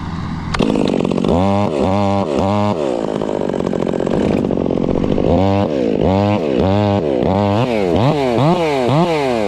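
A Stihl 026 chainsaw running close by, revved in a quick series of sharp bursts that rise and fall over a steady idle, loud and unbroken.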